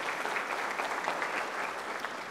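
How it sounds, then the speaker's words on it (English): Brief burst of audience applause at a university welcome event honoring a cheer team, dense and even clapping from a large crowd throughout the short span. "I think that also deserves a round of applause"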